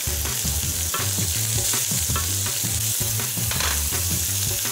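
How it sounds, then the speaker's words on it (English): Green beans, carrots and peas are stirred with fried potatoes and spices in a pan. A spoon scrapes the bottom in a quick, rhythmic pattern over a steady close sizzle. "Stir this through and just scrape the bottom of the pan to release the spices that are sticking."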